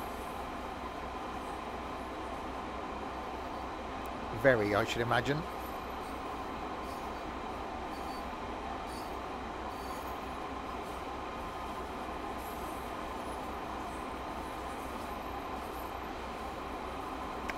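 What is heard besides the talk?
train coasting downhill in video game Train Sim World 2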